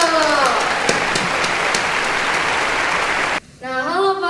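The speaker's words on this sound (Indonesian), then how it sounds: "Beri tepuk tangan dong." A studio audience at a youth-themed podcast show claps to welcome arriving guest stars, a loud, dense burst of applause that cuts off near the end before a voice speaks.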